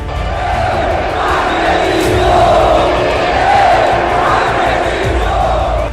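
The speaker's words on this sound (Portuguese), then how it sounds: "Nos pênaltis, a torcida voltou a gritar "Eu acredito"." A large football crowd for Atlético Mineiro roars a sustained, loud chant during a penalty shootout, a dense wall of massed voices swelling and holding across the whole stretch.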